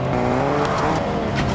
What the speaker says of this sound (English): Plus, I hear another car.